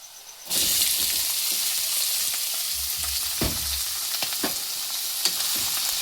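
Snails tipped into a pan of browned onions set off a sudden, loud, steady sizzle of frying, with a few low knocks and scrapes of stirring beneath the hiss.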